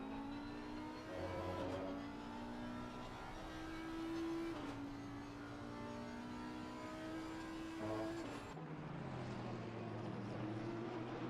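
Audi and Porsche race cars lapping Zolder in a sim racing game, engines droning and shifting pitch as they pass, with sustained revving tones and a gear change near the end, heard alone at moderate level.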